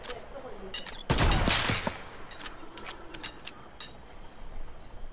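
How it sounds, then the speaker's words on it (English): Gunfire rattles in a Fortnite match, a loud burst of rapid shots near the start followed by scattered lighter cracks and pops over steady game background noise. "They're shooting us!"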